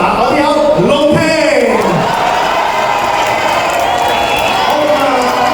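An audience at a singing-contest meet-and-greet cheers and claps loudly to welcome a contestant, with shouting voices rising over a constant roar of the crowd.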